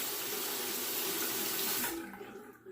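Water runs steadily from a bathroom sink tap for a couple of seconds, a close, full hiss that cuts off abruptly and leaves faint dripping and room quiet.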